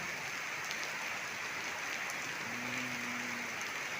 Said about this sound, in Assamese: এতিয়া যিহেতু বৰষুণ দি আছে